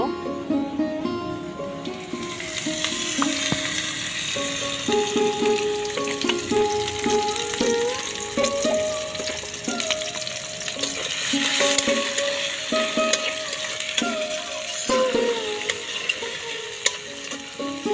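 Chopped onions fry in hot oil while a utensil stirs and scrapes the pan, a steady close sizzle under repeated clinking strokes throughout.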